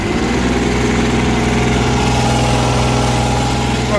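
A Kubota RX403S mini excavator's diesel engine runs at raised revs, a loud, steady, close throbbing drone with engine vibration that holds unbroken throughout.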